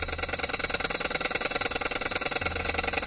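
A small Stirling engine runs steadily on a test bench, giving a fast, even mechanical ticking and whirring that holds at a constant low level throughout, with no talk.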